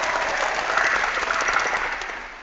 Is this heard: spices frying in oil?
no